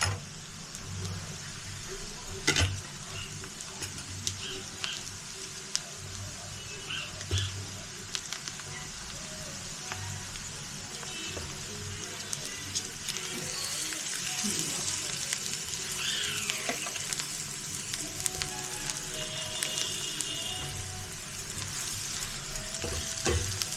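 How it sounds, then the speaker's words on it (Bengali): Onions frying in a pan for a home-cooked dish, a steady close sizzle and crackle running throughout, with a few faint clinks and light background noise. "পেঁয়াজটা ভাজা হলে টমেটোটা দেবো।"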